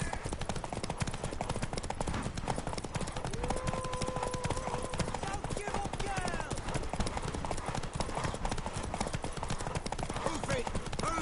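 Steady clip-clop of horse hooves at a brisk trot in The Witcher 3, close and continuous, under a dense layer of other noise and shouting voices.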